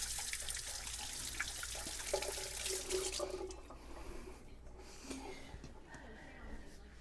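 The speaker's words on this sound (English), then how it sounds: "and wash my hands." Tap water runs into a sink as hands are washed in a home kitchen, a steady broadband hiss for the first few seconds, then a quieter splash and trickle with occasional drips.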